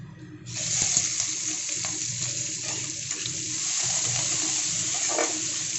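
Onion frying lightly in oil with bay leaf, dried chilli and five-spice for a pumpkin and prawn curry, starting as a sudden loud sizzle that settles into a steady close hiss with small crackles and scraping.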